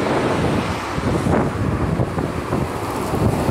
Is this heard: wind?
yes